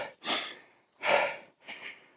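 Heavy breathing of a hiker climbing a steep forest slope of about 45 degrees, three loud, close, breathy exhales and inhales in a slow uneven rhythm.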